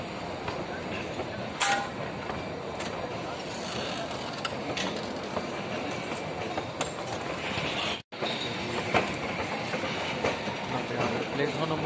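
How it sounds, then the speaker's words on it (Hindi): A toy train rolls at Shimla railway station with steady rail clatter and clickety-clack. Occasional clinks and platform noise sound amid a busy station atmosphere, and faint voices carry in the background. "ये फाइनली दोस्तों शिमला पहुंच चुके हैं और ये शिमला रेलवे स्टेशन है।"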